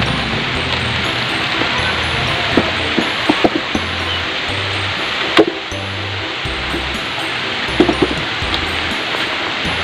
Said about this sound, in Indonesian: Besar sekali hujan ini.